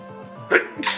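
A single short sneeze from a video game character in the retro NES platformer Kickmaster, a sharp burst after quiet game music, followed by a smaller second burst.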